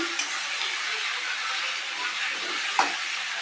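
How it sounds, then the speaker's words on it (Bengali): Onion and garlic fry in a pan with a steady, close sizzling hiss that runs throughout, with a brief crackling pop near the end. "এখানে দেখো পেঁয়াজ আর রসুনটাকে ভাজতে বসিয়ে দিয়েছি"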